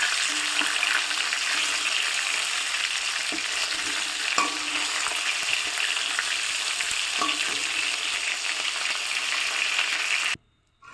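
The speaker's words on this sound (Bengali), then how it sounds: "আমি আবার লেগ পিসগুলোকেই শুধু ভালো করে ভেজে নিচ্ছি" Chicken leg pieces frying in hot oil in a wok, a loud continuous sizzle with a few stirring knocks, cutting off abruptly near the end.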